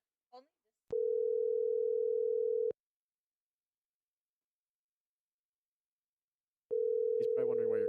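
A ringback tone plays while a phone calls Aaron: two long, steady electronic tones separated by a long silence, with a brief voice-like sound as the second tone begins.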